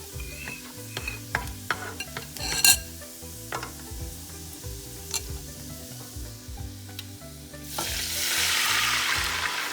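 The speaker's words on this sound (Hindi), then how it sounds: "अब हम इसमें ये मिक्सचर जो मैंने बनाया था विद ऑल सॉसेस, ये हम इसमें डालेंगे।" Mixed sauces poured into a pan of sizzling, lightly golden garlic and ginger for chicken Manchurian curry, with a loud sizzle swelling near the end amid steady stirring scrapes and clinks of a spoon against the pan.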